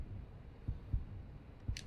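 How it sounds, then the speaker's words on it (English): A character's heartbeat in the game Deus Ex: Human Revolution thumps low and muffled, three or four soft beats at an even pace over a quiet hum. "I don't like hearing our heartbeat whenever we're looking in the Praxi thing"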